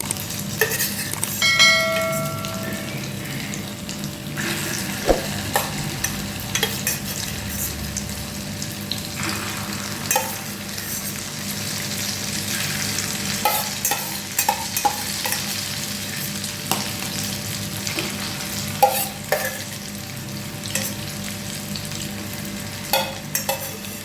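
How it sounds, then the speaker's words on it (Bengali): Ingredients for chili chicken sizzle and fry in a pan while being stirred, with steady sizzling throughout and intermittent scraping and clinking of a utensil against the pan. "ভাজা হোক"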